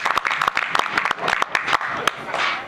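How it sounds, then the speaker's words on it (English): Scattered clapping from a small group at Charlotte Motor Speedway for a driver in a Toyota Camry race car, with irregular close claps and some voices mixed in near the end. "Give a nice round of applause to Don Winchester."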